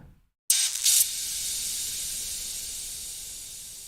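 After a brief silence, a bright, airy hiss swells in and slowly fades, a Valhalla Shimmer reverb with an exaggerated low cut giving a sizzling shimmer with no low end.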